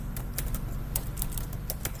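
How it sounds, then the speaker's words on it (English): Quick, light keystrokes on a computer keyboard tap out text in a brisk, irregular run of close, crisp clicks, heard alone. "you can just type in what you need to"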